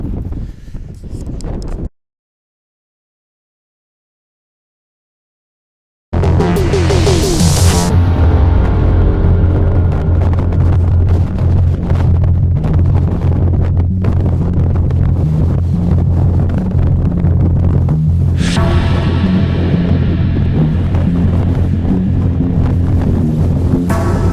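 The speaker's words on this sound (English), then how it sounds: "Yes, it's windy." Strong wind on open moorland hills in the Peak District buffets the microphone in a loud, continuous roar, with gusts rising and falling and a short silent gap near the start.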